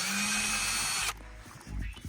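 A power drill runs briefly, whirring at a steady pitch while it backs a bolt out of a panel on a 2012 Nissan Sentra during a blower motor replacement, then stops and leaves faint clatter and handling noise.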